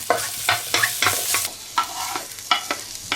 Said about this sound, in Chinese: 葱姜煸炒了了，放到汤锅里